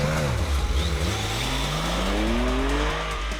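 A 2017 Porsche 911 Carrera S Cabriolet engine growls loudly and steadily from inside the cabin while driving, its pitch dipping and then climbing smoothly as the car accelerates, with a continuous drone and no voices.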